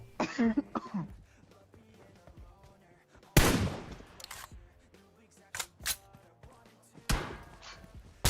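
Gunfire in the PUBG Mobile battle royale game comes as several sharp, loud isolated shots spaced apart, with someone talking faintly between them.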